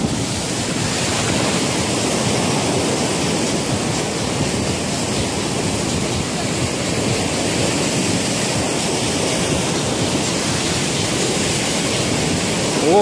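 Storm surf pounds the beach at Mahmutlar, Turkey, a continuous loud roar of breaking waves mixed with wind buffeting the microphone, steady throughout with no clear gaps.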